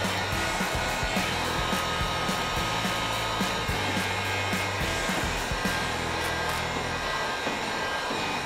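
A heat gun blows hot air onto a decal sticker, giving a loud, steady roaring hiss that holds without a break right next to the listener.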